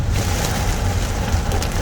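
Heavy rain pounds down on a car driving through Bangkok, a dense, steady roar of drops drumming on the roof and windshield with no pauses and no talking.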